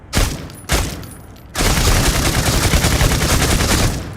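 Gunshots fired at fish in the Critical Ops mobile shooter: two sharp, loud single shots, then a dense rapid burst of automatic fire that runs on steadily, close and without voices.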